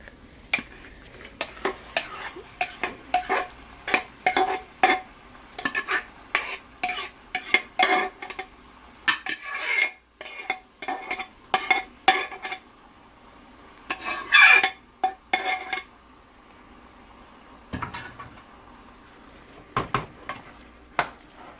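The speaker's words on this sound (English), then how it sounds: "Now we're going to add them into our masala." Vegetables are stirred into pav bhaji masala in a pan with repeated sharp scraping and clanking strokes of a utensil against metal over a faint sizzle, with quiet gaps between bursts and no speech.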